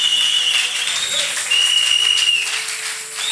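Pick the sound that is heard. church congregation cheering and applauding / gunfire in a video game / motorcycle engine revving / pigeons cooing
church congregation cheering and applauding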